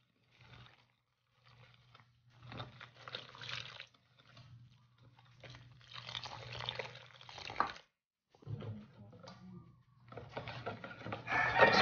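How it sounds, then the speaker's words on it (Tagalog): Water being poured into a bowl of dry ingredients (flour, sugar, baking powder, salt) for steamed cupcakes: faint intermittent splashing and trickling bursts separated by short silences, with a low steady hum underneath and a louder gush at the end. "ilalagay na natin yung ating tubig."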